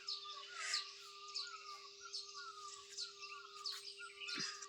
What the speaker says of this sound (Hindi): पंछियों की आवाज़ आ रही है